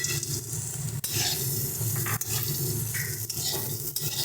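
Green chillies and pre-fried peanuts stirred in a hot frying pan while making chire pulao, a constant loud sizzle broken by sharp scraping and clanking strokes of the spatula about once a second.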